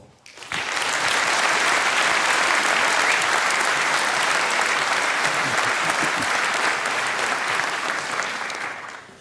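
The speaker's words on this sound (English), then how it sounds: "Please welcome him with a huge round of applause." A large conference audience breaks into loud, sustained applause to welcome a speaker, rising sharply within the first half second and holding dense, steady clapping before tapering at the end.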